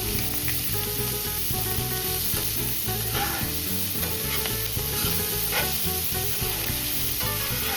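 Prawns frying in a pan until golden, a continuous loud sizzle broken by regular stirring and scraping strokes, with no voices.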